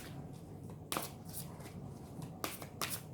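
Oracle cards shuffled and pulled for a tarot-style love reading, giving a soft continuous riffling with several sharper card snaps and flicks, close and fairly quiet, with no talking.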